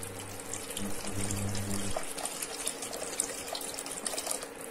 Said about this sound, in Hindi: और थोड़ा सा पानी ऐड करेंगे इसमें।